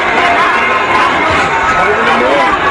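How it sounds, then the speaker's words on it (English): Crowd at a Manny Pacquiao boxing match, a loud steady roar of massed voices with chanting swelling in the final seconds of a round. "The crowd going for Manny Pacquiao. The chants going up."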